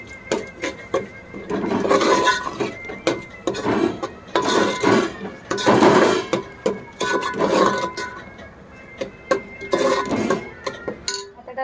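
Chicken changezi masala stirred in a pan, clattering scrapes and metallic knocks of a spoon in bursts, close and fairly loud.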